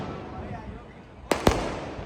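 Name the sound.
firecrackers bursting in celebration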